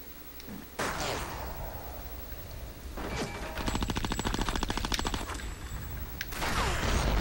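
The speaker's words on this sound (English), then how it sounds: "Those goddamn grenades!" Grenade explosions in the video game Conker Live and Reloaded, a series of booms and crackling blasts with rapid gunfire-like bursts, loud and dense through most of the stretch, with scattered impacts between.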